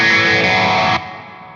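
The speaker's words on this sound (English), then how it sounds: "I have the studio reverb on, which is quite beautiful" Electric guitar played through studio reverb on Genome amp software sounds as a loud, dense sustained chord that cuts off abruptly, leaving a fainter reverb tail ringing out.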